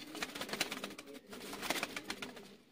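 Domestic pigeons, a Batera Chuha male and a Teddy female, coo softly amid broadband noise, with repeated short murmuring calls at low volume and no voices.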